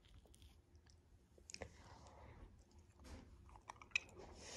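Quiet, close crunching and chewing of Little Debbie unicorn cakes ice cream, strawberry flavoured with bits of cake, in soft irregular bites with clicks and light crackles.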